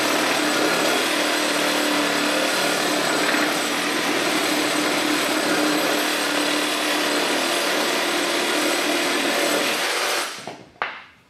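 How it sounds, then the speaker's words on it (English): A DeWalt FlexVolt reciprocating saw cuts through pressure-treated wood in one long, loud, steady buzzing run up close, then stops abruptly at the end with a couple of brief clunks. "Very consistent time through the pressure treated."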